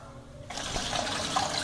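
Water pours into a Colormaq Pioneer washtub as it fills. A steady, moderately loud rush of water starts abruptly after a brief quiet moment and then keeps running.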